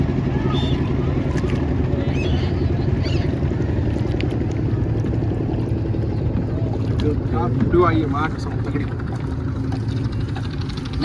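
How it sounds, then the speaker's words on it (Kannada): Boats moving on the river at Varanasi's ghats, with a steady engine drone and water noise running throughout, and people talking nearby over the rumble. "ಅಲ್ಲಿ ನೋಡಿ ಇಲ್ಲೆಲ್ಲ ಬೋಟ್ಸ್ ಹೋಗ್ತಿದ್ದಾವೆ."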